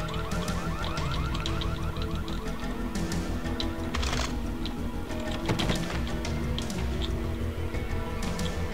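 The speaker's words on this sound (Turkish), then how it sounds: "Alarmı devreye soktuk." An alarm in a building in the video game Max Payne blares loud and continuous, with rapid repeating electronic tones layered over dense game music and clicking effects for the whole stretch.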